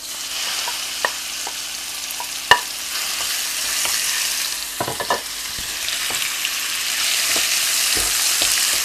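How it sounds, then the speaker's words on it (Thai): Chillies stir-fried in a hot pan for Thai chicken basil with fried egg, a steady close sizzle with occasional sharp scrapes and taps of the spatula. "ผัดคลุกเคล้าให้เข้ากันค่ะ"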